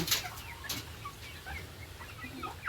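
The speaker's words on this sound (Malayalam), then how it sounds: "ഒരുപാട് കോഴികളുണ്ട്" Many large chickens cluck and call intermittently at moderate distance, in scattered short bursts over a quiet background.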